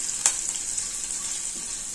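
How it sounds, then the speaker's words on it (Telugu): Tempering spices sizzle in hot oil for a Telugu raw mango pachi pulusu, a soft steady hiss with one small sharp crackle near the start and no talking. "పోపు వేసుకోవాలి."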